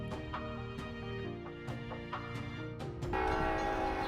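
A train passes close by in Nassau County, Long Island, with steady rumbling and clattering throughout, then a loud sustained horn blast swells in near the end.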